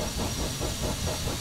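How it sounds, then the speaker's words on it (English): A short steam locomotive on the Isle of Wight Steam Railway in Train Simulator 2012 gives off a steady, loud hiss of steam with a faint rhythmic chuff beneath it, close and alone. "Steam engine. Short little engine."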